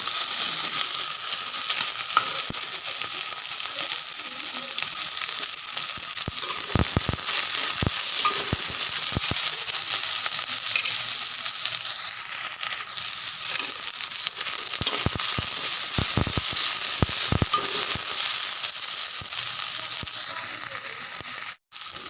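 Pointed gourd and potato pieces fry in a pan with a constant, fairly loud sizzle, interrupted by a series of sharp clacks and scrapes from stirring, ending abruptly.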